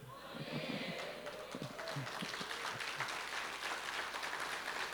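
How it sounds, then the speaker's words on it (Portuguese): Thin, scattered clapping from a church seminar audience, quiet and somewhat distant, rising into a steadier patter as a voice talks over it near the start. "Está muito fraquinho esse aplauso aí"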